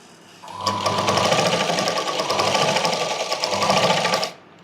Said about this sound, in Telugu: ఈ విధంగా ఫ్రాక్ అనేది మనం స్టిచ్ చేసుకోవాలి.